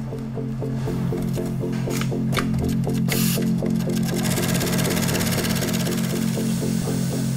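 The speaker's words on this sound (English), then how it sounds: "The first workers to get their hands on the cut leather are the sewers, who stitch pieces together." An industrial sewing machine rapidly stitches cut leather pieces for a Porsche 911 GT3 dashboard in a factory, giving a steady, continuous mechanical whirr with fast regular clatter that runs throughout.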